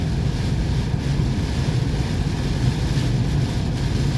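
Heavy thunderstorm rain drumming steadily on a car driving slowly through flooded roads, a dense continuous roar with low rumble, loud and close, no talk.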